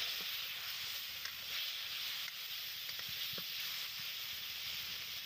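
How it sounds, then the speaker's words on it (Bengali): An onion, potato and spice mixture for an egg and potato curry sautés in a pan with a constant soft sizzle and occasional light stirring taps, without talk. "এবার আমি এটিকে 2-3 মিনিটের মতো কষিয়ে নেব।"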